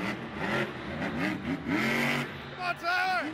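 A monster truck at a muddy Monster Jam event in Jacksonville revs and roars through repeated rising and falling engine sweeps as it shifts from drive to reverse and back, with an announcer talking over it.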